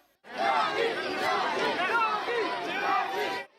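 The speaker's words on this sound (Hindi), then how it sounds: "इस दौरान वहां सीएम योगी के समर्थन में नारेबाजी भी होती रही।" A crowd at a Chief Minister Yogi event chants and shouts slogans in a dense, overlapping mass of voices, starting abruptly and holding steady for a few seconds before cutting off.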